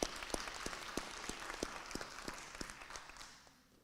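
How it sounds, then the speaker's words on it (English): An audience at a district spelling bee gives a short round of applause. Distinct claps sound in a loose rhythm and taper off by the end. "A round of applause for our spellers"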